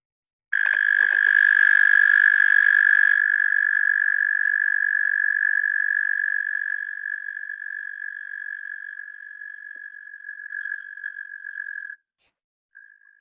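An Eastern American toad trills in Pennsylvania, a single long, steady, high, loud and close musical trill lasting about eleven seconds, followed by a brief second note.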